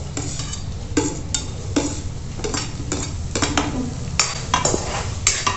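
Onion being stirred in a pan with a little oil, a spoon scraping and tapping the metal in irregular strokes over a soft, steady sizzle, close and moderately loud with no voices.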